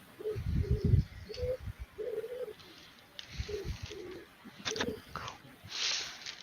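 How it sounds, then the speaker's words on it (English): Pigeons coo in a series of soft, low, rounded calls, several in a row with short pauses between them, fairly close and alone without speech. "is that pigeons I hear?"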